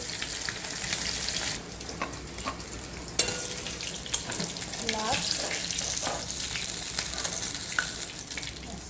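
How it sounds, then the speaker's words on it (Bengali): Pieces of katla fish sizzle steadily in hot oil in a pan, with soft clinks and scrapes as they are lifted out one by one. "অন্যদিকে মাছ ভাজা হয়ে গেছে, আমি একে একে মাছগুলোকে একটু তুলে নেব।"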